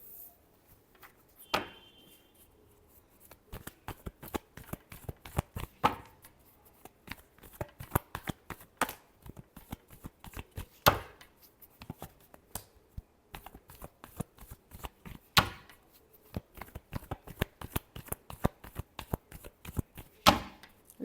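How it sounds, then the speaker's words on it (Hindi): A tarot deck being shuffled by hand at close range: repeated crisp riffles and card slaps in uneven bursts, with brief pauses between rounds and no talking. "Last shuffle."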